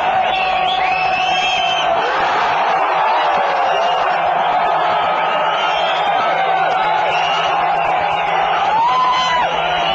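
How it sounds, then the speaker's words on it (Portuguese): A large football crowd in India roars and whoops after a penalty is given, a dense, continuous wall of cheering and yelling with no pause. "A torcida vibra. Foi pênalti."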